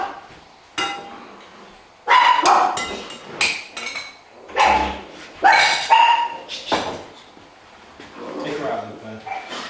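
Dogs bark in short bursts, some loud and close, others more distant, with a voice speaking and a few metallic clinks in between.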